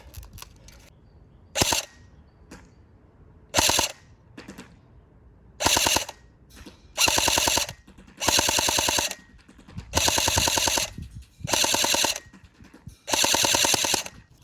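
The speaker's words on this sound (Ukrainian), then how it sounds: "Стрільба 40 метрів." Airsoft AKS-74 SA-J72 CORE rifle firing at a 40-meter range in sharp mechanical bursts, from short double shots early on to longer full-auto strings of about a second, loud and close with brief quiet gaps between.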